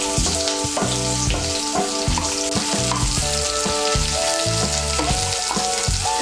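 Chopped onion with nigella seeds and green chilli sizzling in a pan, a continuous close crackle with periodic stirring scrapes, steady and fairly loud throughout, no talking.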